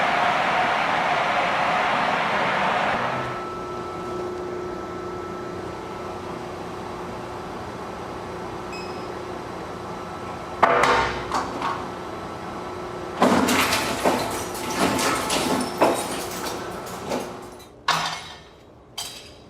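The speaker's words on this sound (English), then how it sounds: "The disks are completely wiped and then destroyed in a huge shredder." A huge industrial shredder at a data center tears through wiped hard drives. A steady machine hum gives way to loud, harsh grinding and crunching that comes in repeated close bursts, with no voices.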